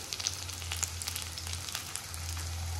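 Dry coconut and sesame seeds roasting in a pan give a soft, steady crackle and sizzle with light stirring, alongside a low constant hum, fairly quiet and without talk.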